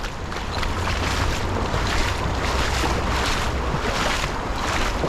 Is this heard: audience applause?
no